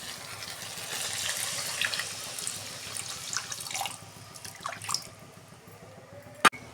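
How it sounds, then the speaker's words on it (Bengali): Water is poured into cooked-down fish curry masala for a Bata fish curry, a splashing rush that runs for several seconds and then thins to light trickles, ending with a single sharp click; no one speaks. "আমি জল দিচ্ছি।"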